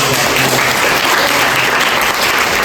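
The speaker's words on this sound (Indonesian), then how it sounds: "Oke, tepuk tangan dulu." A classroom of students clapping together, a loud, dense burst of applause heard up close for a few seconds with no talking.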